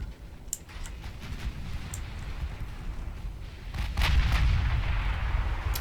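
Naval artillery in the warship game Ultimate Admiral Dreadnoughts, with scattered distant gun reports and a heavier rumbling salvo building toward the end over steady battle ambience.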